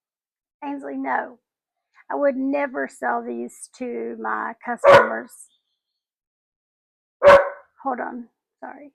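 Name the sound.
dog barking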